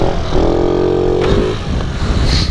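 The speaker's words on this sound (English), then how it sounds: "So you gotta give it some gas to where you're picking up when the power's there." A 50cc moped engine revs as the throttle opens, a buzzing rising whine that climbs and holds briefly before easing off, loud and close amid wind rush.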